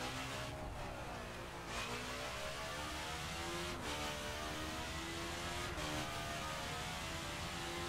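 A Ducati Panigale R motorcycle engine in the driving game The Crew drones steadily and loudly throughout, with pitch rising and falling as the rider shifts and accelerates.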